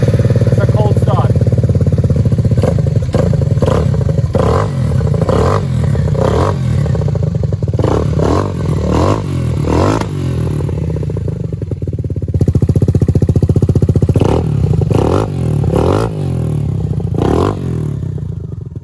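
A modified Malossi Italjet Dragster scooter with an aftermarket exhaust and its dB killer removed cold-starts and idles loudly. The engine note is harsh and steady, with repeated clattering blips of throttle throughout.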